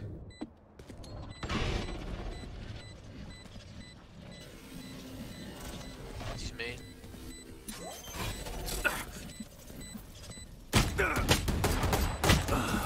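A Vandal rifle fires in a video game match in loud bursts and rapid volleys, with sharp cracks, booms and clattering mechanical effects, and the heaviest firing near the end.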